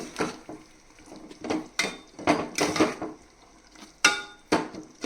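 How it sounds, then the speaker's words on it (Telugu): Spoon stirring cardamom powder into carrot halwa made with jaggery in a pan, giving a run of scraping and clinking knocks in an uneven rhythm, close by and moderately loud. "మనము ఇప్పుడు లాలిక్కాయ పొడి కూడా వేసుకుందాం. వేసుకుని బాగా కలుపుకుందాం."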